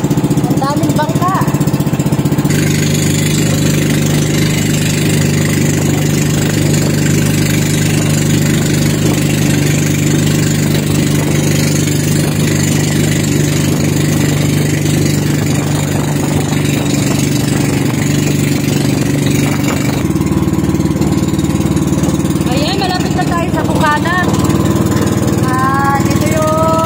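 Several boat engines idle steadily at a crowded harbour in Sablayan, a continuous loud mechanical drone with rhythmic knocking, while someone talks over the noise throughout.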